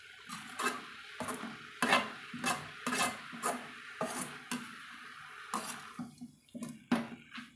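Repeated stirring and scraping of an agathi spinach vegetable mixture in a frying pan over medium heat, with short rhythmic strokes about every half second and a faint sizzle underneath, close by.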